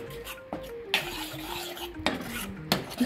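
A spoon scrapes and stirs garlic pickle with chilli powder in a pan, a series of rough scraping strokes with small metallic clinks and squeaks, close and alone.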